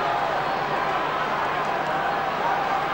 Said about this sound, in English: Crowd getting right behind the home team.